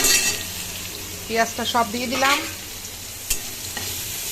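Chopped onion and a pinch of black cumin (kalo jeera) hitting a small amount of hot oil in a kadai, with a steady sizzle rising under a brief spoken line and soft stirring clinks.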